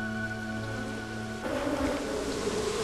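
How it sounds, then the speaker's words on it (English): Africanized bees buzz in a steady, close drone with harmonic hum, which shifts partway through into a broader rushing swarm sound. "These are Africanized bees, descendants of African bees that were first released in Brazil 37 years ago."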